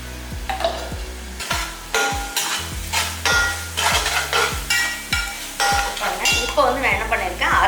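Green chilli, fennel seeds, mint and coriander sautéed in hot oil for chicken pulao, with a constant sizzle, rhythmic metal clinks and scrapes of a utensil against the pan, and a steady low tonal hum underneath.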